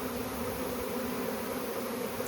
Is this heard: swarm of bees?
yes